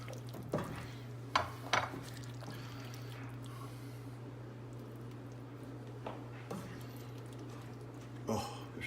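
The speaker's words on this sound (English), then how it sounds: "Stir it up a little bit." Aloo gobi is stirred in a pot, soft scraping and clinks of a utensil against metal in scattered bursts over a steady hum, faint and close, with a voice speaking in between.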